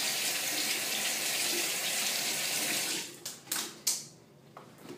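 Tap water runs steadily into a bathroom sink while a beard comb is rinsed under the stream, then the flow breaks into a few uneven splashes and drips as the comb is pulled away; close and fairly loud, with no talking.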